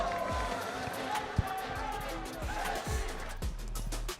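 Esports arena crowd at a Mobile Legends: Bang Bang Mid Season Cup grand final, a dense roaring wash of cheering and shouting with rhythmic chant-like swells and a sharp thump, sustained loudly throughout.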